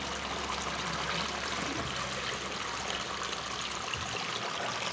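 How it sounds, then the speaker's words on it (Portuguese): Floodwater from a street in poor condition pours into a house, a steady broadband rush and trickle that stays loud and continuous throughout, with no talking. "Nunca entrou água aqui dentro de casa"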